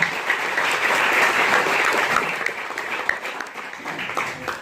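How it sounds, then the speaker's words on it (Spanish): A church congregation claps loudly and steadily during a worship service, a dense, sustained wash of hand claps that tapers off toward the end. "Denle palmas fuertes al Rey de Gloria."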